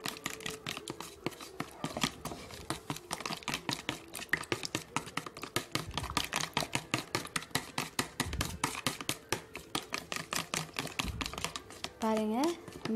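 Eggs with chopped onion and chilli are beaten briskly in a bowl for egg dosa, a fast, steady run of close clicking strokes against the bowl, with a voice speaking over part of it.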